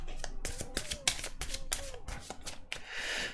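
Tarot cards slid and drawn from a deck, a run of quick papery flicks and soft slaps close by, with a brief shuffling rustle near the end and no speech.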